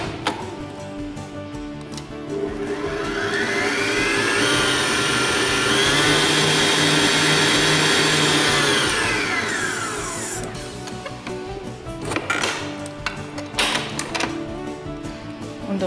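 Electric hand mixer stirring cake batter briefly for a sponge cake, a steady whirring motor hum that rises in and fades out over several seconds, with clattering bowl noises afterward.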